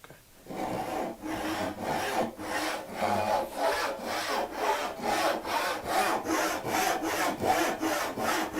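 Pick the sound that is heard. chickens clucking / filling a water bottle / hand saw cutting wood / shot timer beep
hand saw cutting wood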